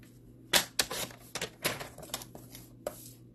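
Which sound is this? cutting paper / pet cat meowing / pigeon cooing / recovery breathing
cutting paper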